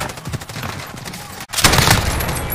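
Rapid bursts of gunfire in a shooter video game, loud and close: a rattle of shots, a brief break, then a heavier, denser volley toward the end.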